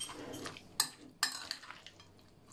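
A spoon stirs a simple student salad dressed with mayonnaise in a bowl, producing a few close, soft scraping strokes and light clinks against the bowl in a short burst.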